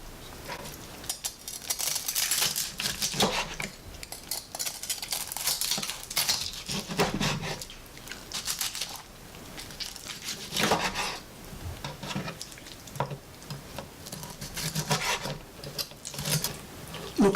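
A knife slices through crispy grilled pork skin into bite-size pieces, giving repeated crunchy, rasping cuts at close range that come in bursts throughout, with no talking.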